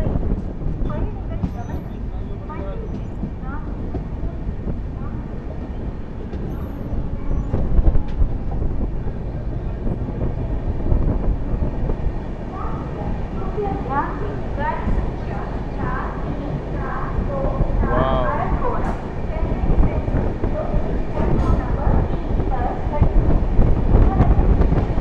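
Aboard the 12503 SMVT Bengaluru–Agartala Humsafar Express as it runs, a constant rumble and clatter of wheels and wind fills the background while a person talks over it for most of the stretch.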